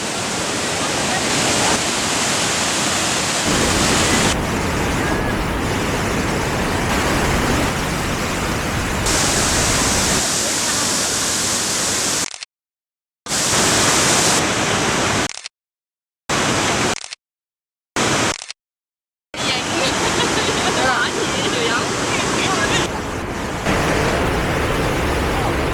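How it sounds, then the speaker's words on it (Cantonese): A waterfall at Xiaoqikong roars as a loud, continuous wash of broadband rushing water, filling the scene with a few abrupt silent breaks, while people talk faintly beneath it. "我聽到有瀑布聲咯"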